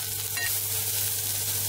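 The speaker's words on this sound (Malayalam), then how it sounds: "ഇനി ഇതിലോട്ട് നമുക്ക് നമ്മൾ എടുത്തു വച്ചിരിക്കുന്ന ആ വെളുത്തുള്ളിയുടെയും സവാളയുടെയും മിക്സ്ചർ ചേർത്ത് ഒന്ന് ചെറുതായിട്ട്" A garlic and onion mix sautéing in hot olive oil, a steady, close hiss of frying with one brief scrape of a utensil near the start, no voices.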